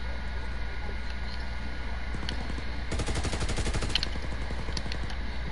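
Automatic gunfire from a gun in a video game: a burst of rapid, evenly spaced shots stands out loud over a steady background hum for about a second, with a few scattered shots before it.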